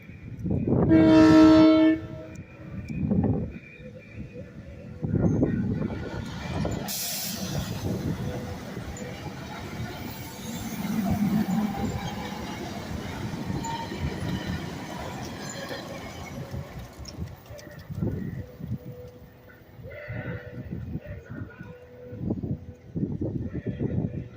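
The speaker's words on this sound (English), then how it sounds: "a train is approaching the crossing" A SEPTA Regional Rail train horn blares loudly at a level crossing at the start, then a continuous rumble of rail cars rolls past with clanking and squealing metal, sustained throughout.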